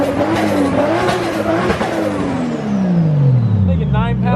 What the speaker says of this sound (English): Hey, yo, that turbo noise, right?